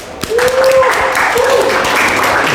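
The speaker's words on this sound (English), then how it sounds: "He had a round of applause." Applause from participants of an online virtual racing tournament, a steady dense patter of clapping with a faint whistle-like tone over it, heard through a call connection.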